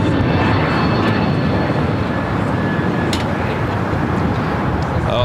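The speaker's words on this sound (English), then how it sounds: "This is Breeze Airways 707 taking off to Jacksonville on the A220-300." A Breeze Airways Airbus A220-300 jet roars during takeoff at LAX, a loud, steady, broadband engine rumble that fills the whole clip with no break.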